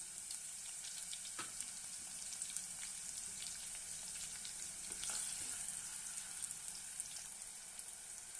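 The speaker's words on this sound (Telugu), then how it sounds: "ఆనియన్ కొంచెం వేగాయి కదా" Onions fry in a pan for a fish gravy, a soft, steady sizzle with faint crackles and an occasional light stir, quiet and continuous with no talking.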